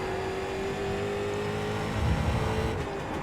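A street stock race car running laps at Lanier National Speedway in iRacing, its engine a steady sustained drone with a slight swell toward the end, no talk.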